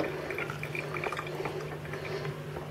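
Cooked pumpkin being poured into a kitchen strainer, a soft wet trickle with faint drips and light splatters, steady and close but quiet, with no talk.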